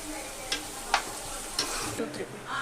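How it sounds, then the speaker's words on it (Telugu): Onions with ginger garlic paste frying in a pan, a soft continuous sizzle with several light scraping stir strokes, fairly quiet and close. "ఇప్పుడైతే ఆనియన్స్ వేగుతున్నాయి కదా"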